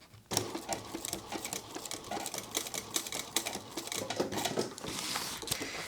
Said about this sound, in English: we're going to stitch right on that 5/8 inch line and do about 1/2 inch of stitching forwards and back